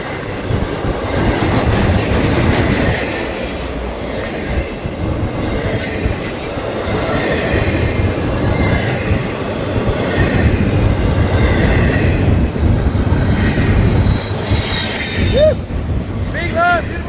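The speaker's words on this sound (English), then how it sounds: "Big, long, beautiful train." A long freight train rolls steadily past a crossing with the gate arm down, producing a continuous loud rumble of wheels and wagons, rhythmic clacking, and occasional high metallic wheel squeals near the end, without any speech.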